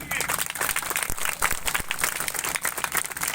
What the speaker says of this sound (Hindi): एक जोरदार ताली मन के